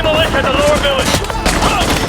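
Rapid machine gun fire rattles under excited talking during a Call of Duty Modern Warfare 2 Remastered mission, the shots steady and close beneath the voice.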